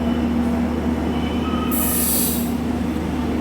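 Padatik Express train running on rails, a steady close rumble with a brief high wheel squeal in the middle; no voices.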